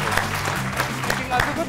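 Studio audience applause on a television comedy game show, a brief burst of clapping that swells toward the end, with a presenter's voice over it.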